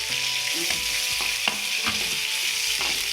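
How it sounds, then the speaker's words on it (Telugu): Green chilies and onions splutter and sizzle in hot oil, a steady close hiss broken by several sharp pops and stirring strokes at irregular intervals. "పచ్చిమిర్చి వేసినప్పుడు దూరంగా ఉండండి, లేకపోతే ఎగురుతాయి."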